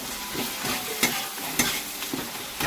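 Hot spice paste sizzles steadily in a pan while a spatula scrapes and turns it in several short, irregular strokes, close up with no voices.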